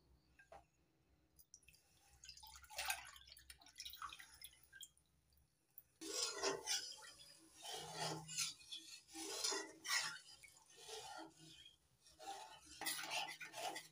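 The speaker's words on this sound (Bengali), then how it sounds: "কমলা লেবু আর কর্নফ্লাওয়ারের মিশ্রণটা দিয়ে অনবরত নাড়াচাড়া করতে হবে, নাহলে তলায় ধরে যেতে পারে" A spoon scraping and stirring an orange juice and cornflour mixture in a pan on a gas stove, with soft rasping strokes that start quiet and then turn into a steady, close rhythm of scrapes and clinks.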